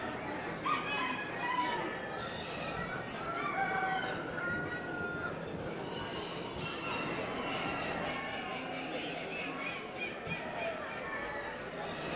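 Chickens cluck and chatter at a poultry show, with a rooster crowing briefly among them and soft background noise throughout.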